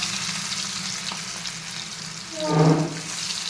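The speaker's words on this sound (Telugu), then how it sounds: "బాగా వేడైన ఆయిల్లో ఇప్పుడు మనం కలిపెట్టుకున్న ఫిష్ ముక్కలు వేసి ఫ్రై చేసుకోవాలి" Marinated fish pieces fry in well-heated oil for a Telugu fish fry, giving a steady close sizzle that swells into a louder crackling burst near the end.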